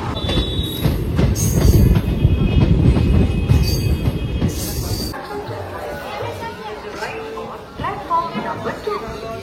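A Sealdah-Silchar Kanchanjunga Express train running in sleeper class, with a loud, steady rumble and rattle of the carriage that drops to a quieter hum partway through, and people talking throughout.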